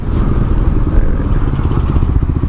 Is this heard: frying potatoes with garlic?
no